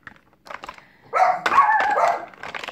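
Dogs barking indoors in a home setting, several sharp yips and barks in quick bursts, close and fairly loud, with quiet gaps between them and no talk.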